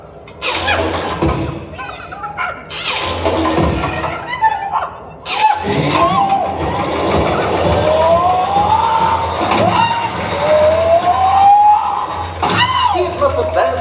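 Muppet Labs machine powering up in the Muppet Vision theater show, with clunks and thuds, then a rising, warbling electronic whine that climbs and repeats, loud and close amid mixed noise.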